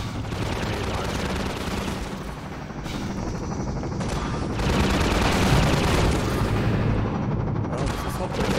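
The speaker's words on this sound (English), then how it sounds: "So we have infinite grenade launcher." A grenade launcher thumps out rounds in a shooter game, buried in a loud, unbroken barrage of explosions and gunfire that swells slightly midway.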